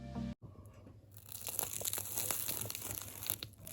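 Crispy, flaky baked pie crust is cut, giving a close, quiet series of brittle crunches and crackles that keep going after a brief silent pause at the start.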